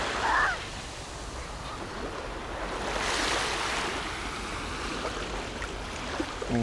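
Mediterranean sea surf at Alanya rolls and washes steadily, with a swell building midway, heard close against a breezy rush of wind over the microphone.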